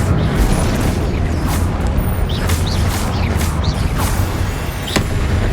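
A spell cast in the Hogwarts Legacy video game lands with a loud booming magical burst and whooshing swells over a dense, rumbling combat soundscape that stays loud and continuous, ending with a sharp crack.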